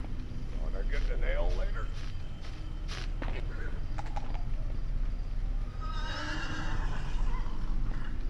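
A horse whinnies near the start amid hoof clip-clops and a steady background hum in the video game The Dark Mod, with a voice speaking over it.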